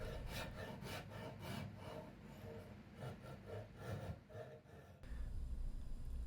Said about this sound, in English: get a rasp and some sandpaper